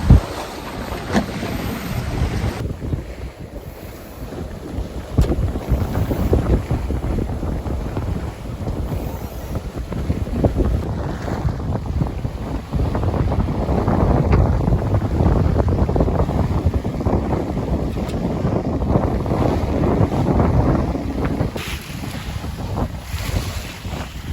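A sailboat under a reefed mainsail and full genoa, sailed single-handed at sea, rushes steadily through waves with constant wind noise buffeting the microphone, water washing along the hull throughout, no voices.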